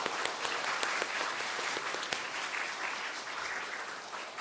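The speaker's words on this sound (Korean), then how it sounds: "우리 박수로 한번." Church congregation applauding in encouragement of the middle and high school teachers during a Sunday afternoon worship service, a steady close wash of clapping lasting several seconds with no talk over it.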